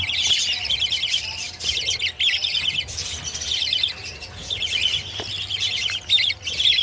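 African lovebirds in a breeding cage chirp continuously, a dense chatter of high, rapid tweets from several birds close by, with no voices.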